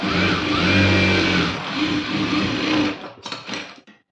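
A sewing machine runs steadily while stitching a blouse seam, a loud continuous mechanical whir that holds for about three seconds, then breaks into a few short stop-start bursts before falling quiet.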